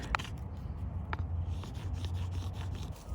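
A Mora Companion knife scrapes against a ferro rod to make shavings outdoors in the wind, a faint rasping scrape over low, steady wind rumble, close but quiet with no talk.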